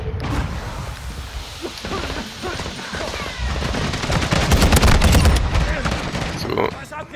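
Taq V battle rifle firing in Modern Warfare 2: loud, rapid bursts of gunshots run through the whole stretch and grow denser and heavier toward the end, with game noise mixed in underneath.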